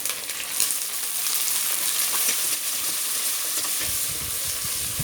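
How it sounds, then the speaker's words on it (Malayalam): Shallots and curry leaves frying in hot oil for an elephant yam chicken curry, a dense, continuous sizzle with crackling bursts and soft stirring. "ഇതിലേക്ക് നമ്മൾക്ക് ചെറിയ ഉള്ളിയും കറിവേപ്പിലയും കൂടെ ഇട്ട് കൊടുക്കാം"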